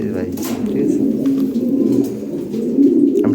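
Pigeons being readied for delivery coo repeatedly in low, rolling calls close at hand, with people talking over them.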